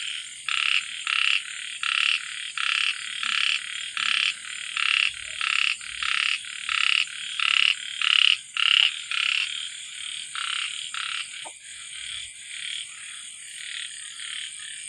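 Frogs croak at night behind a rural house, a steady rhythmic chorus of loud, evenly pulsed calls repeating over and over with insects buzzing faintly beneath.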